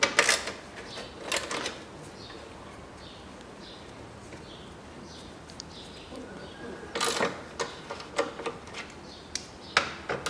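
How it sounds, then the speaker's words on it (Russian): Bolts being unscrewed from the radiator panel of a 2004 Nissan March: a few short clusters of metallic ratcheting clicks near the start, middle and end, close by, with quiet gaps between them. "Откручиваем болты."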